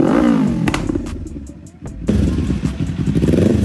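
Kawasaki Ninja 500 motorcycle with a Zeus Ion performance exhaust, loud close revving with a rising throttle blip, a short lull with clicks, then a rumbling idle.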